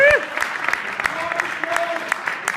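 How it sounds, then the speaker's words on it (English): A live audience cheers and applauds for a beatboxer, a dense wash of clapping with whoops rising over it, loud and close throughout with a couple of brief voices mixed in. "That was a louder cheer than I heard when I went to your show."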